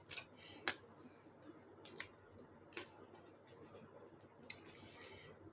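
Scissors trimming paper for a handmade Christmas card, a few quiet crisp snips spaced out over a low room hum.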